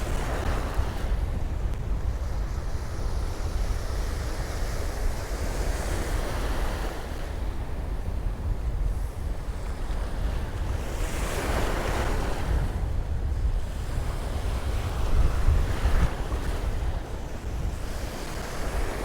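Sea waves break and wash continuously along Cromer beach, a loud roaring surf with rising and falling surges and heavy wind buffeting the microphone.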